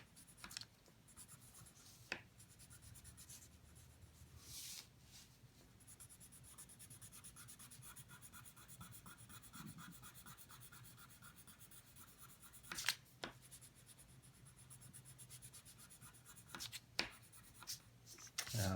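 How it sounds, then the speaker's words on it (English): Pencil scratching and rubbing steadily across paper while shading a drawing of an eagle, a soft close continuous scrape with a few sharper taps and ticks near the end. "Pencil's catching up on the paper"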